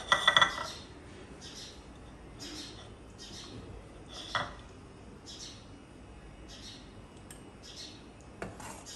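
Cooked beef pasanday dished out of the pot, with scattered metal spoon scrapes and clinks against cookware at close range, a louder cluster at the start, then sparse, softer taps.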